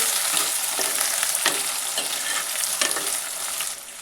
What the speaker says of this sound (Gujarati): હવે તેમાં મરચાંને નાખી દઈએ અને મરચાંને પણ આ રીતે હલાવતા રહીએ અને સાતળી લઈએ